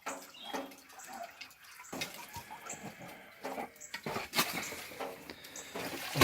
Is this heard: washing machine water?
yes